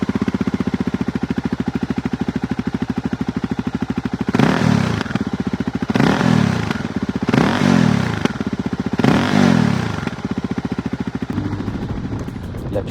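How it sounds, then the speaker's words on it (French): A Voge 300 Rally single-cylinder motorcycle engine of 26 horsepower idles steadily, then gives four rough bursts of crackle and popping as it decelerates before settling back to a steady idle. "le monocylindre est efficace et délivre une belle sonorité avec un joli crépitement à la décélération"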